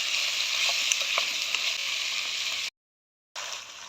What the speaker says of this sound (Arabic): نقلب البصل كده مع اللحمه شويه برده